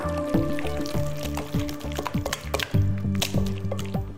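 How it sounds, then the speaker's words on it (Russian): Wet squishing and dripping as water is worked into minced meat mixed with egg, salt and pepper, with irregular squelches and thuds close by. "Добавим немного воды."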